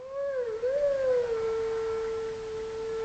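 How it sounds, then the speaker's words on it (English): A wolf howls in The Legend of Zelda: Twilight Princess, one loud, sustained tonal call that rises and dips at first, then holds a long steady note with bright harmonics, close and alone with no talking. "Who needs to blow where you can howl?"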